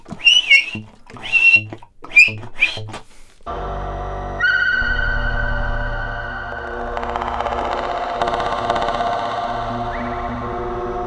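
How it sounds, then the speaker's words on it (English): Teeth squeals on a saxophone, an extended technique: sharp, squeaky high-pitched cries in short bursts, followed by a held, buzzy, layered tone that rings on with echo. "And I was using teeth squeals as well."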